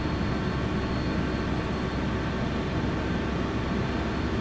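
Sabreliner business jet engine in the Prepar3D flight simulator as the throttle is pulled back, a dense, steady roar with a faint hum that stays loud and even without a clear drop.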